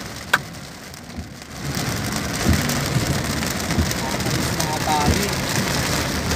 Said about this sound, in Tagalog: Ang lakas ng ulan, ng lakas ng ulan.